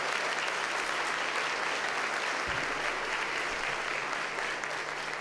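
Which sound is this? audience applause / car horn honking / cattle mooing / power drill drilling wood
audience applause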